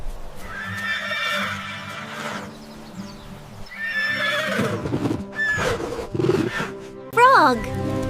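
A pony neighs in a loud, shaky whinny, followed by snorts and hoof-like thuds, and ends with a second short, sharp whinny.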